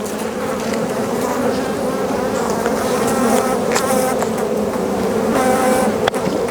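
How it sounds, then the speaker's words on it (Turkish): Dense, continuous buzzing of many Italian honeybees swarming close by at the hive, a steady droning hum without pause. "Bu İtalyan bir arı ırkı."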